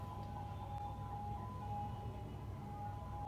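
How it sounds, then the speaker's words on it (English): A vehicle siren wails in the distance, holding a steady high tone throughout over a low rumble of traffic or engine noise, with no talk over it. "So these are these people be honking their siren."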